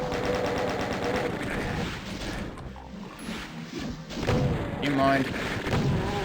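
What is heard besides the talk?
chaingunner enemies firing in Doom video game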